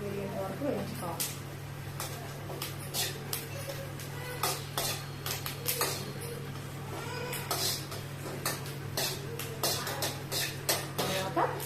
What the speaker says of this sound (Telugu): తగినంత కరివేపాకు దోరగా వేగేంత వరకు వేయించుకోవాలి.